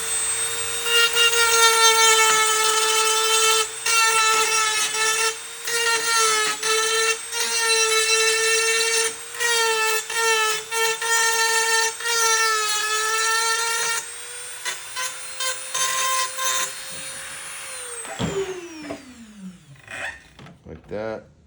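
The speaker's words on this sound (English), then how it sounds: "We're just gonna take a Dremel with a grinding tip and take all these little plastic welds off." A Dremel rotary tool with a grinding tip whines at a high pitch, pitch dipping and recovering in repeated bursts as it grinds plastic welds off a Ford fender badge, then spins down near the end.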